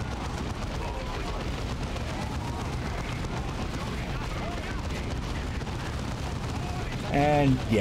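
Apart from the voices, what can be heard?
heavy bolter fire from a Devastator squad, video game Dawn of War 2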